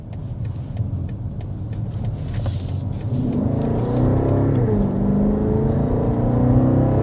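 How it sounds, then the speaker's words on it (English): A 2026 BMW X6 with a V-8 accelerates hard, its engine rising from a low rumble into a loud, climbing growl that swells and holds, heard from inside the cabin after a brief spoken remark. "That was a quick acceleration, barely touching 60 miles per hour."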